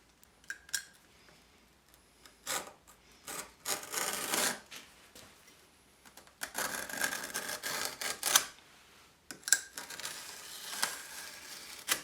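A sandpaper belt is cut to size against wooden blocks, with bursts of rasping, scraping cuts separated by quiet pauses and small handling clicks, close up.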